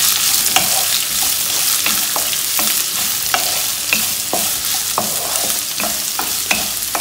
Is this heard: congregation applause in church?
no